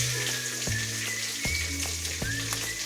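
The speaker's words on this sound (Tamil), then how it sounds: "இதுலேயே நான் ஒரு தக்காளி சேர்த்துக்கிறேன்." Tomato goes into a pan of frying small onions for a brinjal curry, producing a steady close sizzle with a few soft stirring knocks and no talking.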